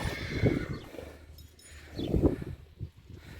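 A few hoof thuds and shuffles from a mare standing close by, with a soft snort, no talking.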